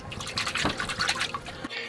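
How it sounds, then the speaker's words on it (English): Water dripping and trickling steadily from a leaking RV water heater, a close, continuous patter of small drops and liquid splashes with no talk. "So we got a nice active drip there."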